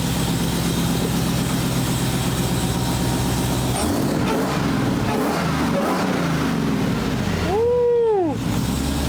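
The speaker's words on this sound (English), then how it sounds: "That's what a Tacoma is supposed to sound like." A Toyota Tacoma engine with loud, in-your-face mufflers idling with a heavy, rumbling low drone, then revving in rising and falling pulls, the last rev sweeping sharply up and back down near the end.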